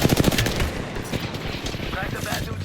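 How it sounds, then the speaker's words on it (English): Rapid automatic gunfire in the Apex Legends battle royale game, dense bursts of shots crackling in quick succession, loud and close at first then continuing amid game effects. "They're shooting at me."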